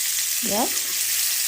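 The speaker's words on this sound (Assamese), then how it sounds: "পনীৰখিনি অকণমান ভাজি ল'ম" Paneer frying in a pan gives a loud, continuous sizzle throughout, while a voice briefly speaks over it.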